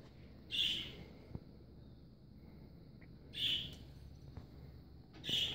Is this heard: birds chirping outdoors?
yes